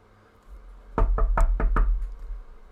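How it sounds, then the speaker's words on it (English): Four sharp knocks on a door in quick succession, loud and close, used as a sound effect in a reading of a ghostly Christmas tale, with a faint low hum underneath and no talking. "Is reading alone in his home one evening when he hears a knock at the door."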